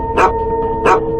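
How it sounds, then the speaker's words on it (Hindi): Two sharp, loud dog barks spaced under a second apart, close by, over a steady electrical hum. "सर ये कुत्ता यहाँ पे रोज ऐसा ही भौंकता है,"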